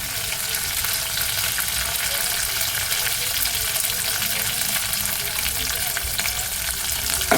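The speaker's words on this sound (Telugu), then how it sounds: "చూడండి, కరివేపాకు చిగురు వేసాను." Tender curry leaf shoots crackle and sizzle steadily in hot tempering oil for a mango and lentil pappu charu, a dense close frying hiss with light stirring and no talk.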